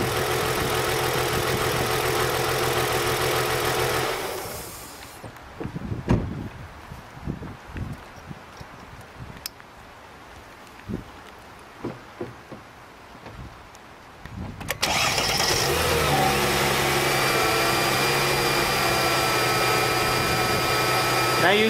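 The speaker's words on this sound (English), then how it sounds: "Now you can see the engine is running very smooth." A car engine with a bad ignition coil idles with a steady low hum, cuts out for about ten seconds of quiet shuffling and clicks while a coil is swapped, then restarts and idles smoothly again.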